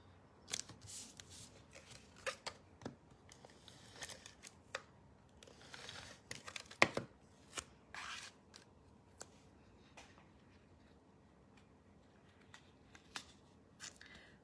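Scissors snip through paper while a tri-fold card is being made, a series of sharp close cuts and crisp rustles with irregular pauses between them and no talking.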